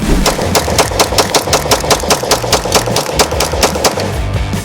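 Rapid shots from a Palmetto State Armory PSA Dagger, a Glock-clone handgun, fired in a fast even string of about twenty sharp cracks, loud and close over a steady background rumble, no voices.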